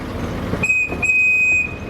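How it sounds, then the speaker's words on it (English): A train whistle sounds at the Alton Towers theme park, a clear sustained high tone blown twice in close succession over steady outdoor ambience, with no talking. "But I always love the train at Alton Towers"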